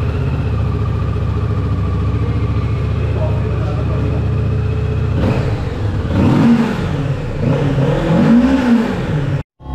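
A 2023 Kawasaki Ninja 650 motorcycle starts and idles with a steady rumble, then revs hard several times in rising and falling sweeps, loud and close, before cutting off abruptly at the end.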